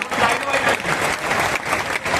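Dense applause from an audience at a marketing seminar talk, many hands clapping loudly and evenly for the whole short stretch.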